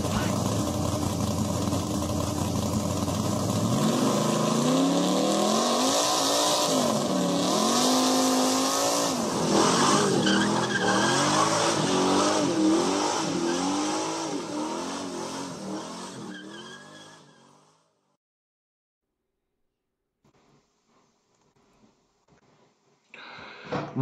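Race cars roar and rev loudly with tire skids and squeals, engine pitch sweeping up and down for about seventeen seconds before cutting out abruptly into near silence, as a NASCAR-style intro effect.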